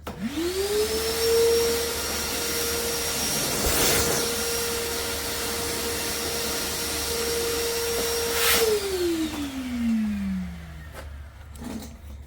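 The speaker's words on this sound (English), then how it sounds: "I'm going to vacuum this up a little bit" A shop vacuum cleaner whirs up to a steady high-pitched drone while cleaning up wood dust, runs continuously for several seconds, then winds down as it switches off.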